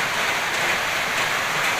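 Heavy rain pours outdoors near a shelter where chickens are sheltered in rural Thailand, a dense, even roar of falling water, close and loud, steady throughout with no voices.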